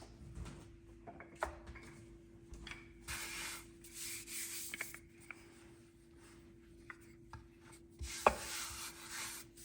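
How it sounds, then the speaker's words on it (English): Dough for West Virginia pepperoni rolls being rolled out with a rolling pin: quiet, intermittent rubbing and scraping strokes with occasional light knocks, close up and with no talking. "if the dough is so elastic that it doesn't want to spread, I'll just use a rolling pin"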